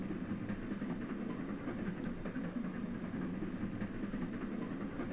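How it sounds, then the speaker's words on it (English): A cartoon train in a puzzle video game rumbles steadily and close by, a continuous rolling clatter with a low engine drone and no breaks. "Train coming my way."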